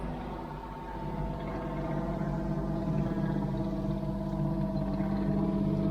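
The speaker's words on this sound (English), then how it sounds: "Here comes Sam backing up the tractor." Tractor backing up at a swamp-side work site where dirt is being moved, a steady low engine drone with a continuous hum that swells slightly and holds at a constant level, no talking.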